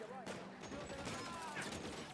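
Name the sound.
gunfire in video game LA Noire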